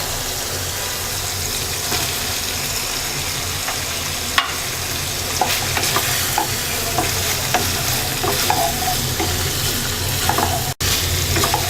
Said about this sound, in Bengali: মাশরুমটাকে 2 মিনিট ভেজে নেব